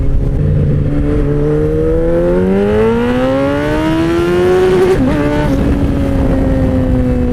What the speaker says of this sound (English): this bike just gets up and goes